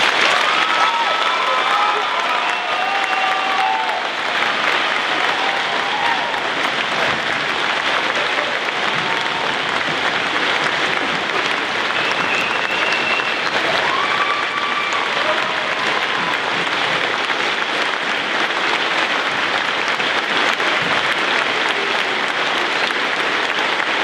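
Sustained, loud applause fills a cadet corps graduation ceremony for over twenty seconds, a dense wash of many hands with faint scattered cheers.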